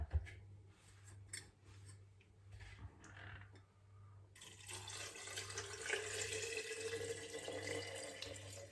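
Sugar water, four tablespoons of white sugar dissolved in a litre, poured into a roughly 1.8 litre jar for homemade citrus vinegar; a few faint clinks give way to a steady, soft trickling pour into the glass, with a low hum underneath.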